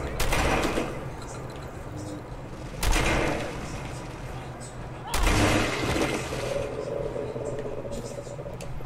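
Gunfire in PUBG, with three loud, sharp shots spaced a couple of seconds apart, each ringing out over a steady background of game ambience and voice chat.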